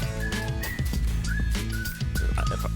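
Melodic whistling carried within a song, bright sustained whistled notes riding over the music's beat and instruments, fairly loud and continuous.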